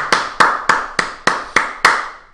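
Seven sharp hand claps at an even, unhurried pace, close and dry with nothing else underneath.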